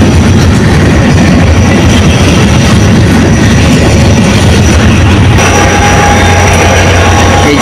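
Fareed Express locomotive and carriages rolling along the rails out of Karachi, a steady loud rumble with low droning throughout and faint clatter, close by with no talk.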